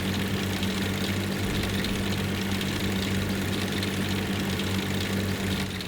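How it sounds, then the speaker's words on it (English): A heavy Hanomag half-track engine in the video game Forgotten Hope 2 drones at a steady low rumble with a rough, knocking texture, constant and unbroken throughout. "the engine sound of this Hanomag can be heard across the map"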